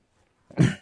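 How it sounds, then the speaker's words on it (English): One short, gruff throat clearing, close and fairly loud, follows a moment of silence. "Sorry, I need to clear my throat."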